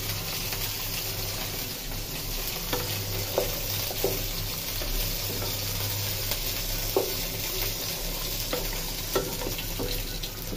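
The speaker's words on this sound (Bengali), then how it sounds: "এই যে এটাতে ডিম ভাজবো, কড়াই গরম দিচ্ছি।" Eggs fry in a hot wok, making a constant, moderately loud sizzle with scattered sharp crackles and spits, alongside a low steady kitchen hum.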